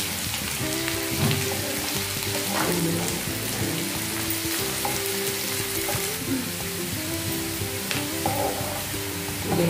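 Onions browning in a pan with cumin for a chana sabji, a loud dense continuous sizzle and crackle alongside scraping stirring, close up and without voices.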